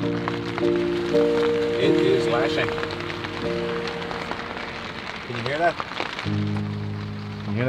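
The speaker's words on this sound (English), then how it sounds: "Well, it's pissing rain." Heavy rain drumming on the roof of a parked VW California camper van during a storm, a steady close patter heard from inside, with someone talking over it and a low hum beneath.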